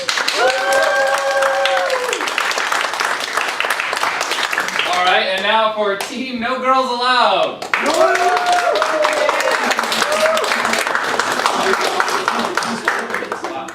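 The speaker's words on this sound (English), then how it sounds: "we like to decide which team won by a round of applause" Applause and cheers from an improv comedy show audience voting for a team, mixed with a host talking and loud whoops and shouts rising over sustained clapping.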